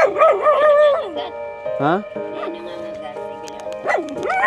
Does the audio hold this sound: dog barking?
yes